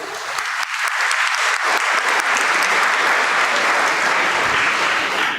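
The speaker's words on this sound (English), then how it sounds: "The coordinators of today's program deserve a big round of applause." Audience applause at a school assembly, a dense, steady clapping from a large crowd that rises quickly and holds loud and even throughout, with no talking over it.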